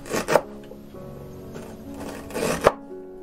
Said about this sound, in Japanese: 生姜は薄切りにまず切ります